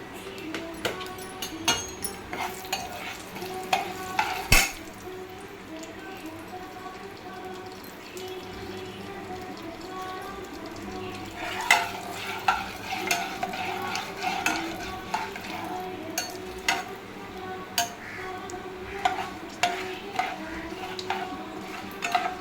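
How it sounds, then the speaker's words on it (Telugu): Onions frying in a pan after popped mustard seeds for a split chickpea, tomato and onion masala, a continuous low sizzle broken by repeated scraping stirs and occasional sharp clicks of a spoon against the pan, nearby. "అప్పుడు ఇది వేసుకో ఆనియన్స్, ఉల్లిపాయలు వేసుకోవాలి."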